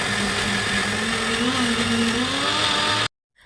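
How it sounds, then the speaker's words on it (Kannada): A kitchen mixer grinder whirs loudly as it grinds jackfruit dosa batter, a steady motor drone with a wavering pitch that runs for about three seconds and then cuts off abruptly. "ಸ್ಪೂನನ್ನು ಇಟ್ಕೊಂಡು ಸ್ವಲ್ಪ ಸ್ವಲ್ಪ ನೀರನ್ನು ಹಾಕಿ ಮಿಕ್ಸ್ ಮಾಡ್ತಾ ಮಾಡ್ತಾ ಮಿಕ್ಸಿಯಲ್ಲಿ ಗ್ರೈಂಡ್ ಮಾಡ್ಕೊಳ್ತಾ ಇರ್ತೀನಿ"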